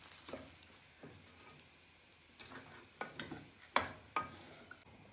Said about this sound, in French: Avec les carottes et puis l'oignon blanc. Donc, faire revenir, laisser un peu mijoter aussi un petit peu.